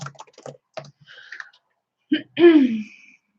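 Quick keyboard typing for a Google search, a scattered run of light clicks followed by a short burst of speech-like sound.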